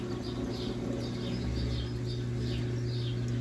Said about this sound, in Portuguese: E eu acho que tem um passarinho aqui.